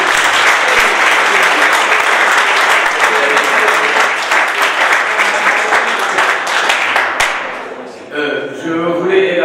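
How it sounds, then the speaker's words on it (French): Loud, dense applause from an audience at a school study-trip event, holding steady for several seconds before thinning out and trailing off near the end. "Et je veux vraiment des applaudissements"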